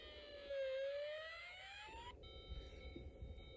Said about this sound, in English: You'll hear the recording of an alarm.